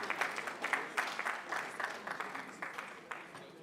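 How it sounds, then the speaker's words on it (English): Applause from the audience at a Nigerian tech-industry panel session, a fairly quiet, even patter of many hands clapping steadily for nearly four seconds, slowly thinning out toward the end. "A round of applause for him, please."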